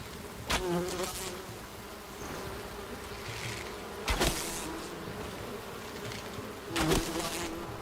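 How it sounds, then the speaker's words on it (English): Bees in the fantasy survival game Enshrouded drone with a steady, close buzz, swelling into three louder, sharp bursts as they dart near, with no talking. "Oh, hello, bees."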